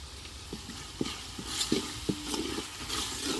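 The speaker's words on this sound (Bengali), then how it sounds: "মশলা কষান্য হয়ে গেছে" Spice masala paste of garlic, onion, ginger, cumin, coriander, turmeric and chili frying and being stirred in a pan for a village mutton head dal, a soft sizzle with several distinct knocks and scrapes of the spoon.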